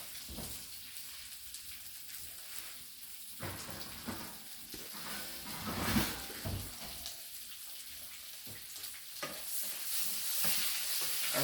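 Meatballs for subs sizzle in a frying pan while being stirred, giving soft crackling and irregular scraping bursts at moderate loudness, with no talking.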